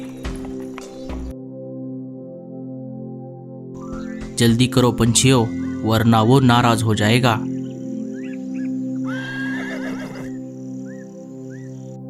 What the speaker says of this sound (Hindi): घोड़ा गाड़ी आ गई।